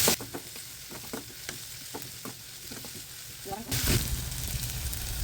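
Curry leaves and green chillies sizzle in hot oil, a bright, close frying crackle with stirring scrapes that swells louder near the end.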